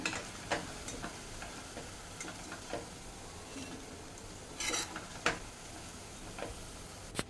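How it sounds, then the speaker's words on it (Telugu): Baby corn crackles softly in hot oil while it is stirred, with scattered sharp ticks and a few louder scraping clicks from the utensil; the sizzle stays faint and steady throughout. "మళ్ళీ ఒకసారి తిప్పుదామండి, కొంచెం ఫ్రై అవ్వాలి."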